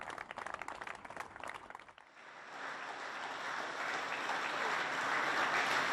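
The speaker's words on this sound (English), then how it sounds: "There's applause here from the staff of Network Rail, British Transport Police, train operators, cleaning and security staff" Staff and passengers at Manchester Piccadilly railway station clap for the NHS and key workers. Sparse, distant claps swell into a steady wash of crowd applause echoing through the station.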